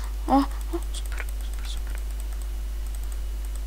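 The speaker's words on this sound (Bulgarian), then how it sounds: "Сори, ако дразни мишката" Sparse computer mouse clicks during a Happy Wheels game session: a handful of faint, brief clicks scattered over a few seconds above a steady background hum, with no talk.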